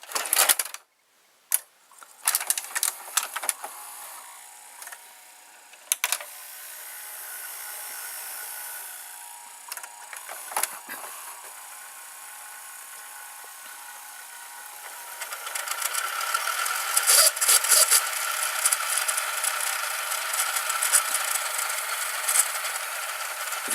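A 1998 Toshiba VCR fast-forwards a videotape, opening with clunky mechanical clicks and thumps, then settling into a steady whirring motor hiss that grows louder and brighter as the tape speeds along, heard up close.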